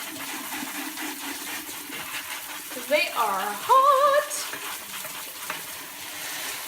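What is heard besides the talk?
tap water running over hot boiled eggs in sink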